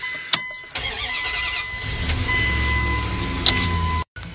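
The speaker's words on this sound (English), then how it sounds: "start the truck" A 1998 Ram 2500 pickup with a failing alternator cranks briefly and fires, then settles into a loud, rumbling idle close by, with a couple of sharp clicks early on and an abrupt cut near the end.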